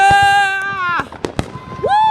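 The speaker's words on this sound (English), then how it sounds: "There's the fireworks everywhere." Fireworks whistle with rising, siren-like tones and burst in several sharp cracks nearby, while excited voices sound in between.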